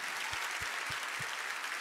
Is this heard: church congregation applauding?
yes